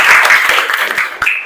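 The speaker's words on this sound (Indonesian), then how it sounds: "Ya, tepuk tangan untuk kita semua." A group of participants in a teacher-training class claps together, a short, close burst of steady applause with a few sharper individual claps standing out near the end.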